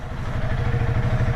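A Honda CRF300L motorcycle engine idles steadily up close, its low, even rumble and light mechanical clatter continuing without a break and with no talk over it.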